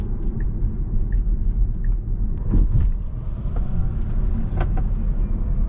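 A Tesla Model 3 Performance drives along with a steady low rumble of road and tire noise inside the cabin, with faint clicks and small rattles over it.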